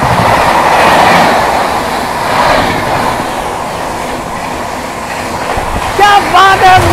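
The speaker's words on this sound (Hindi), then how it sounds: "आपके सामने अब क्रॉस हो रही है one two four to four Dibrugarh Rajdhani" The 12424 Dibrugarh Rajdhani Express crosses at Dankaur station while another train waits on the loop line, a loud steady rumble of wheels and coaches with a brief squeal near the end.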